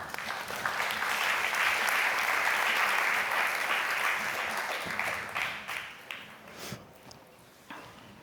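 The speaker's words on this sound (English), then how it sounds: "Let us please give them a round of applause." Audience applause at a religious peace assembly's closing ceremony: dense, sustained clapping from a large crowd that gradually thins and fades into scattered claps toward the end.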